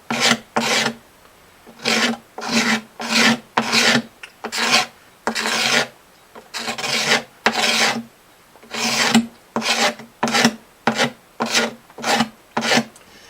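A tape-wrapped razor blade scrapes hardened super glue off a crack in a short rasping series of repeated strokes, each a gritty burst, close and loud with brief pauses between.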